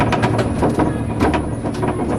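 The snail-themed monorail at Efteling amusement park rolls along its elevated rails with a steady rumbling clatter and rhythmic clicks, loud and close, with no talking.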